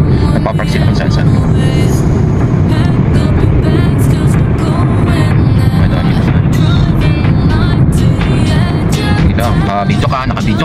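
Busy street traffic with cars passing close by, a loud, continuous roar of engines and tyres with scattered rattles and clanks, unbroken from start to finish.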